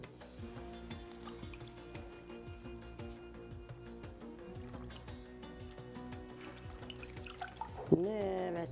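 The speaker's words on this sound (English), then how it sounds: "I will soak it in water." A plain clean piece of cloth is soaked in water for steaming Moroccan seffa, with dripping and splashing liquid sounds, a steady rhythmic background and a brief louder splash near the end.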